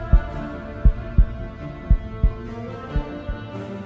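Heartbeat sound effect thumping in low, deep beats, about eight pulses in slightly uneven pairs over a faint steady hum, with no voices.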